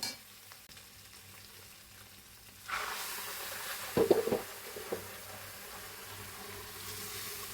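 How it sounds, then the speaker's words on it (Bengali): Hot water is poured into a sizzling pot of fried chicken for pulao, a broad rushing hiss rising abruptly and continuing, with a few brief clanks partway through. "এখন আমি গরম পানি দিয়ে দিব"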